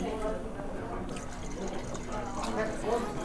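Arak and water are poured into a glass, giving a soft, steady trickle and splash of liquid while people talk nearby.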